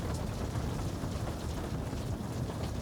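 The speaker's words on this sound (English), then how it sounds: "Rain continues outside, softer now through the glass." Rain falls steadily outside, heard through glass on a rainy evening, a dense, even hiss that stays constant and moderately loud throughout with no voices.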